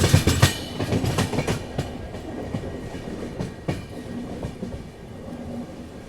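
The Ajmer Mysuru express train rolls along, with rhythmic clickety-clack wheel beats over rail joints heard up close, loudest at the start and settling into a steadier rumble.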